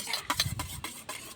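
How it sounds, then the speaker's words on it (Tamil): Eggs with a pinch of salt whisked briskly in a bowl, giving a quick series of close, light tapping and sloshing strokes in a steady rhythm. "நம்ம உடச்சி ஊற்றிருக்க முட்டை கூட கொஞ்சோண்டு சால்ட் உப்பு சேர்த்துக்கலாம், நல்லா அடிச்சுக்கலாம்"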